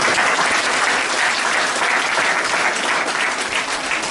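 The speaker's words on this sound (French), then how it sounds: "Je voudrais vraiment que vous puissiez vous applaudir." Loud, continuous audience applause filling the whole stretch, an even crowd of many hands clapping with no break or voice above it.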